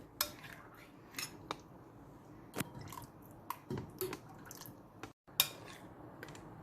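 A spoon stirs an egg-and-yogurt mixture for Turkish spinach soup, with quiet scattered clinks, taps and wet drips in an otherwise hushed kitchen.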